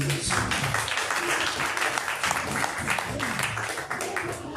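A church congregation applauding during a service, dense and continuous clapping from many hands close by, with voices mixed into the crowd noise.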